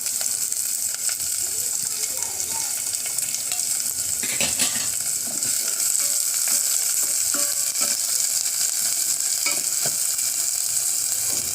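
Sliced onion and green chilies sautéing in oil with whole dried red chilies for paruppu rasam, a steady loud sizzle with occasional spoon scrapes and clinks, faint voice in the background.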